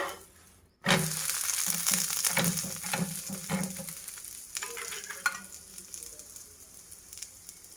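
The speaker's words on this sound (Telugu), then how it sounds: "ఇప్పుడు మనం కొంచెం నెయ్యి వేద్దాము." Ghee hits a hot frying pan while wheat-flour obbattlu are being made. After a brief quiet moment it bursts into a loud crackling sizzle, then settles into softer popping and spitting, with no voices.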